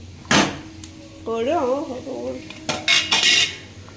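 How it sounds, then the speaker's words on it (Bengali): A metal lid is set onto a cooking pot of fish in a kitchen, making a few close clanks and scrapes while a voice speaks in the middle. "এবার ফুটুক, ঢাকনাটা দিয়ে রাখি।"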